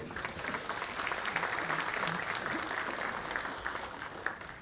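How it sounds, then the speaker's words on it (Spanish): An audience at a conference on decentralization applauds a speaker with steady, sustained clapping that stays even throughout, without voices. "Les pido un fuerte aplauso para nuestro ponente el día de hoy."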